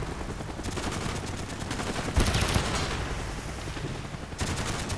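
Gunfire from a large mounted gun in the Call of Duty: Black Ops video game crashes out in sustained bursts, dense and loud, with short gaps between volleys.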